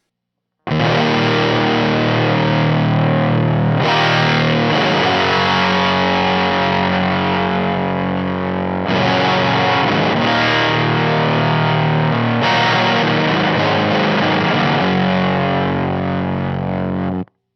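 Glaive distortion pedal set to low gain, giving a broken, misbiased, ripped-speaker texture on a loud sustained tone that keeps swelling and restriking across the whole stretch, with no voices.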